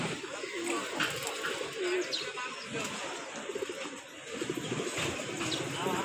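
Domestic pigeons coo repeatedly amid chirps and a busy background of household noise, fairly close and steady throughout.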